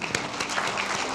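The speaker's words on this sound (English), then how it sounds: "Clap!" Audience applause at a global sustainability film awards ceremony, a brief burst of dense, even clapping from a crowd in a hall.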